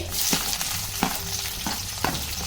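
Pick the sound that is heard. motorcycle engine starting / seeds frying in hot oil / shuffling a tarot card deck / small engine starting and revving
seeds frying in hot oil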